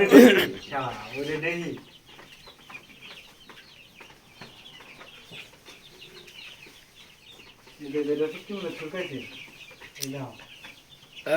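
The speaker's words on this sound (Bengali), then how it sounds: "এই যে এটা মোরগ" Roosters and hens at a poultry seller's farm cluck in several short bursts close by, with people talking in between.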